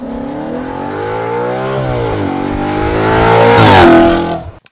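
Close, loud revving of a 2015 Audi RS5 B8.5 with its 4.2-liter V8, the pitch climbing in a rising howl, dipping briefly, then surging to a high scream before cutting off abruptly.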